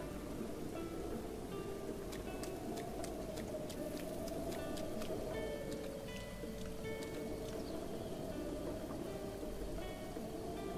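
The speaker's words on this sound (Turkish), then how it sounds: "Yağmur mu yağıyor lan?" Rain falling in the video game Zelda: Breath of the Wild, a steady wash of hiss that holds evenly throughout with faint scattered chirps and ticks over it.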